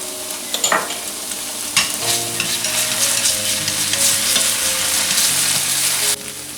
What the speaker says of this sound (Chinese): 葱蒜爆香， 2种辣酱放进来